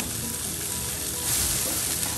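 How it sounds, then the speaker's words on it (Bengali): Onion frying in oil in a home kitchen with bay leaf, cinnamon and cardamom added, giving a steady, dense sizzle throughout that swells slightly partway through, with no talking. "পেঁয়াজটা হালকা একটু ভাজা হোক, একটু নরম হয়ে গেলে আমি মশলা দেওয়া শুরু করব।"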